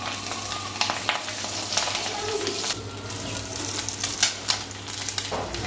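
Fish roe frying in a pan for a fish egg curry gives a steady sizzle, broken by scraping and clinking as it is stirred. The sound is close and moderately quiet.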